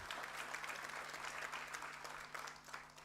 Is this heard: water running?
no